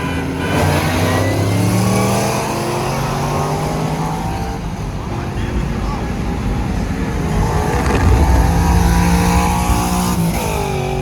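A 1000-horsepower Dodge Durango Hellcat SUV accelerates hard in a race, its engine note climbing through rising revs and gear changes, loud and fairly close, with voices faintly underneath.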